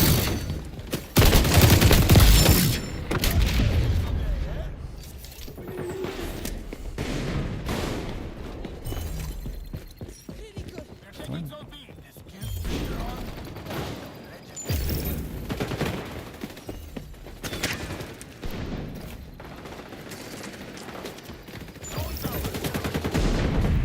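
Gunfire in the online shooter XDefiant, including shotguns, with dense bursts of rapid shots and booms coming in uneven clusters, loudest early, under the game's noisy mix without clear voices.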